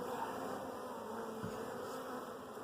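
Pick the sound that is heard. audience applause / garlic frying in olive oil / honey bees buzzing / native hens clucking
honey bees buzzing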